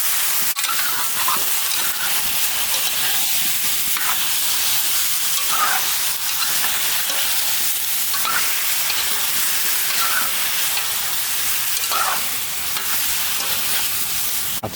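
Ground provisions tumbling into a hot pot with pigtail and frying over high heat for Caribbean soup, a loud, constant close sizzle broken by the scrape of stirring at intervals.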